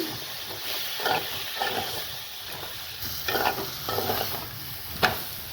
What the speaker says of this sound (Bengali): এখন ঢেলে দিই মশলাটাকে ভালো করে কষিয়ে নিচ্ছি